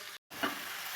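Chopped ash gourd stirred in a hot frying pan, a brief soft sizzle broken by a short gap, then a scrape and renewed hiss close by.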